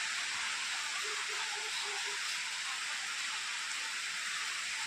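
Light rain, the first of the year, falls as a steady, even hiss, with a brief faint voice in the background.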